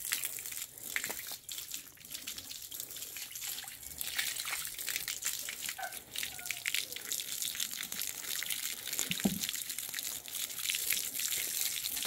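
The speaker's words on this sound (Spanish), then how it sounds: "los bañamos con agua fresquecita de la manguera del nacimiento" Fresh spring water from a hose splashing over touring circus animals in hot weather, a steady, dense hiss and patter of spraying water with scattered sharper splashes throughout.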